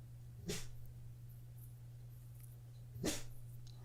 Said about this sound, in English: Now Max the dog is woofing